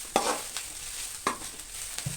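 Onions sauté in a pan while being stirred, with a faint sizzle under a few scraping strokes of the spoon.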